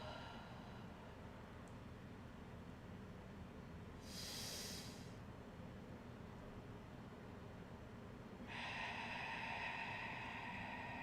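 Slow breathing during a breathing exercise, with a soft whooshing breath near the middle and a longer, louder breathy exhale near the end over a low hiss.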